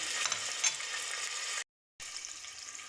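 Continuous sizzling crackle of red and green peppers frying in hot oil, broken by a brief silent gap before the hiss resumes.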